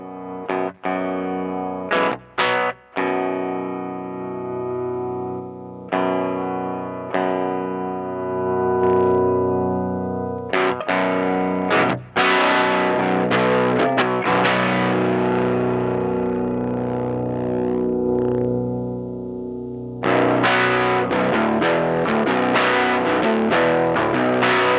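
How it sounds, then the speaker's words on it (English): An electric guitar runs through a cheap powered PA mixer used as an amp, with a gritty solid-state distortion edge. Loud sustained chords and picked notes ring out with short breaks, and no one speaks. "you still kind of get a little bit of edge of solid state distortion in there"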